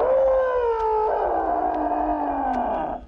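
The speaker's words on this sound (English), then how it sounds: "the lion let out a huge and terrifying roar" A lion's huge, terrifying roar as an audiobook sound effect: one long, loud, drawn-out cry with a slowly falling pitch that fades out after about three seconds, with no talk over it.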